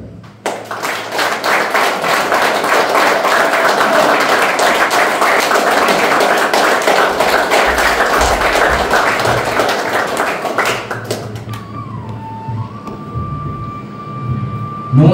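An audience applauds to welcome the next poetry reciter onto the stage, loud sustained clapping that lasts about ten seconds before fading out, followed by quiet room tone and a faint tone.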